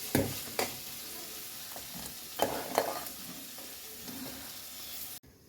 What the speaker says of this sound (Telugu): రాగి జావ మసులుతుంది